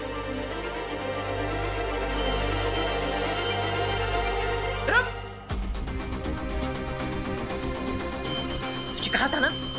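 A telephone bell rings in a household scene from a 1990s-set drama, its bright repeated ringing sounding steadily across the whole stretch with a short break midway, while background sound continues beneath it.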